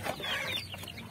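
One-month-old chicks eating feed and clucking, with soft chirps and peeps over a brief, close, busy background.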